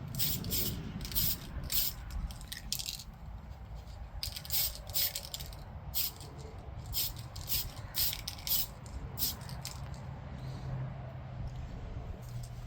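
Light clear coat sprayed from an aerosol can onto a model car body, several short hissing bursts in a steady rhythm over a low background hum, close and fairly loud.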